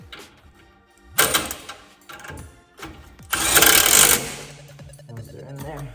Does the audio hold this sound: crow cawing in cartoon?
no